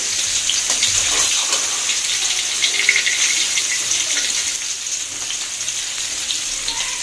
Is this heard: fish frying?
yes